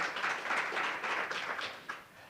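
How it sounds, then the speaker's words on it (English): A panel discussion audience applauds steadily, a dense wash of clapping hands with no voices, fading slightly toward the end. "Round of applause for our wonderful panel and sharing their perspectives."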